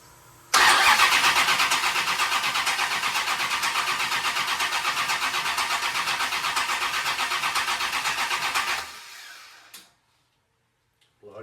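A Mopar stroker engine with a solid roller camshaft fires up for the first time on a run stand, starting abruptly and running loud and steady with a fast, even mechanical chatter for about eight seconds before cutting off.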